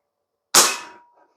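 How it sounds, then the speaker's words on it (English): A single sharp shot from an Umarex Fusion 2 CO2-powered .177 bolt-action pellet rifle, a loud crack that decays over about half a second, followed by a faint click. "I'm just going to keep shooting until we're empty."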